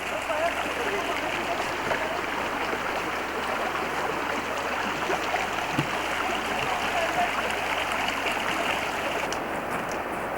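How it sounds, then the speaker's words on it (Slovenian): Kozjak stream rushing through snow and ice toward the Soča valley, a steady broadband wash of flowing water that stays even and close throughout, with no pauses. "Potok Kozjak se prebija skozi sneg in led."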